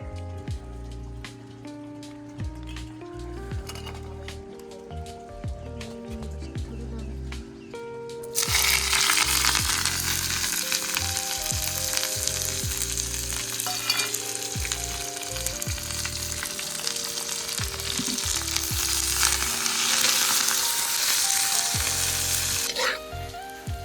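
Green chillies, whole garlic and roasted peanuts hit hot oil in a pan, bursting into a loud, steady sizzle with crackling pops that continues close up; music plays softly underneath throughout.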